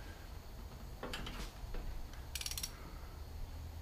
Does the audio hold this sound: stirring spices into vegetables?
no